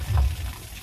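Water trickles and splashes steadily through a native-style bamboo spout in a bathroom fixture, a close, continuous flow with a brief gurgling swell near the start.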